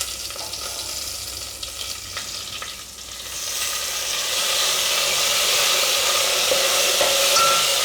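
Whole dried chillies, bay leaf, asafoetida and curry leaves sizzling in hot ghee for kadhi, a steady close crackling hiss that swells louder halfway through and keeps spitting, no voices.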